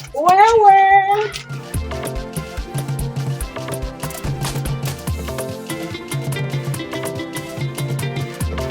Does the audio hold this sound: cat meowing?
yes